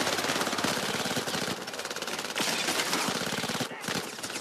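Rapid automatic gunfire from the shooter game Syndicate, loud and close, with dense bursts that pause briefly and then resume over the few seconds.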